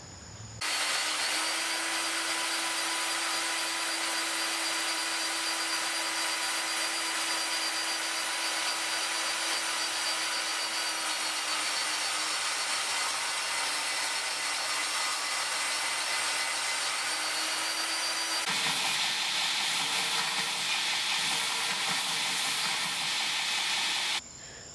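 A power sander grinds down protruding pin material on the handle of a mosaic Damascus EDC cleaver. It makes a loud, steady whirring hiss with a constant motor hum that shifts in tone near the end.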